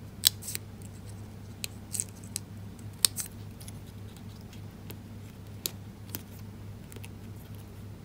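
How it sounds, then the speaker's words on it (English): Scissors fussy cutting a paper card element for a handmade card, sharp isolated snips at irregular intervals over a steady low hum. "Finding my scissors, I'm just going to quickly fussy cut that one out"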